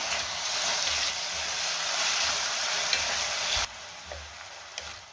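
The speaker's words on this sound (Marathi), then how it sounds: "त्यामध्ये आता आपल्याला टोमॅटो घालायचा आहे आणि पुन्हा 2 मिनिटं चांगलं परतून घ्यायचे।" Tomato sautéing with ginger and garlic in a pan, a steady loud sizzle and hiss with faint stirring scrapes that drops suddenly quieter near the end.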